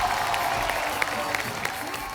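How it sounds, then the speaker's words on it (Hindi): Applause from a studio audience at a comedy show, a steady wash of clapping with a few sharper claps standing out, heard on its own. "जोरदार तालियां।"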